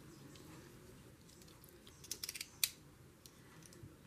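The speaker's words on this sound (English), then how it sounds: "I am taking my knife to my wonderful gnome book, cutting out my first page." A craft knife slices a page out of a gnome-themed book for a journal, a quiet scraping cut with a few small clicks and a sharper snip near the end; no talking.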